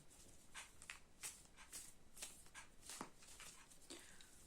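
Tarot cards being shuffled close by, a series of soft, quick riffling and slapping sounds in an uneven rhythm, quiet and with no talking.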